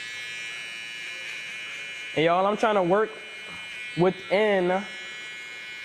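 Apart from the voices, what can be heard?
electric hair trimmer running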